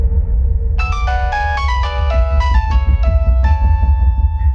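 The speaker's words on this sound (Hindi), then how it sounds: "ये बार बार किसका फोन आ रहा है बेटा?" A phone ringtone plays a melodic sequence of bright electronic tones over a low background hum, clear and fairly loud, with no voices.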